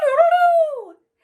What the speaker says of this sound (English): It daunted the dog, who barked